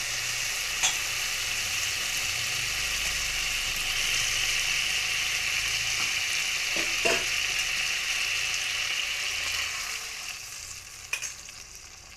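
Spices and potatoes sizzle loudly in a pan after water is poured in, a steady hissing fry with occasional sharp pops and clinks, easing off near the end.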